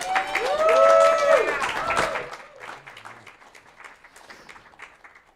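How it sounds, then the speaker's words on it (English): A theatre crowd applauds the director Daira Rodriguez at a Bushwick Book Club Seattle mainstage show. A strong burst of clapping fades over a few seconds while a voice speaks over the start. "Keep that applause going for Daira Rodriguez, who directed that."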